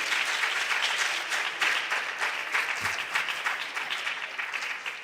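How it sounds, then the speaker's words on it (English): A hall full of students and supporters at a national junior science and maths quiz applauds themselves: dense, steady clapping from a large crowd, loud and sustained throughout. "Can we all clap for ourselves then?"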